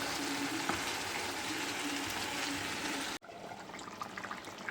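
Curry sizzles and bubbles in a pan after water is added, a steady close hiss that cuts off abruptly and gives way to quieter, uneven bubbling, with no talking.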